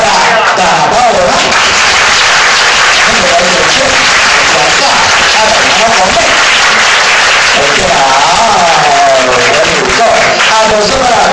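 Loud, sustained applause and clapping from a crowd at a nightclub event, dense and continuous throughout with cheering voices mixed in.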